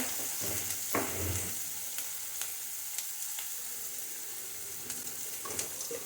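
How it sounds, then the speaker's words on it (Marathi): Masala with turmeric sautéing in a pan, a constant hiss of frying broken by scattered clicks and scrapes of a stirring spoon, close and without any voices. "मसाला आपल्याला चांगला परतून घ्यायचा आहे त्याच्यामध्ये थोडीशी हळद"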